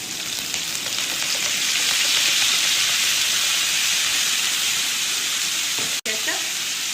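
Gola kebabs sizzling in a hot pan with green chillies and soy sauce: loud, steady hissing and frying that holds throughout, broken by a brief dropout near the end, with faint stirring.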